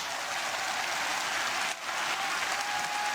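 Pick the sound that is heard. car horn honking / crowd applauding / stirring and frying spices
crowd applauding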